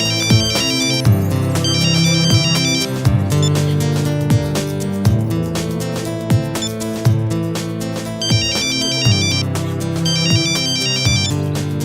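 A telephone ringtone plays repeatedly, loud and continuous, a looping electronic melody with bright chiming notes and no talk over it.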